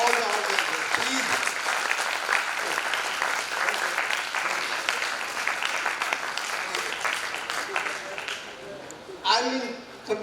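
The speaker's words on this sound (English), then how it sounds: "So let us give a big round of applause to all the organizers." An audience at a college golden jubilee celebration gives a steady round of applause for the organizers. The dense clapping carries on for most of the stretch with voices under it, then fades as a speaker resumes near the end.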